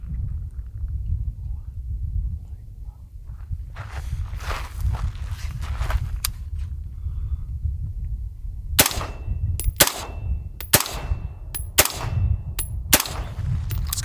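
A PSA Sabre 11.5 rifle firing a string of about a dozen sharp cracking shots at an uneven pace, loud and close, after several seconds of low rumbling background and scattered faint knocks.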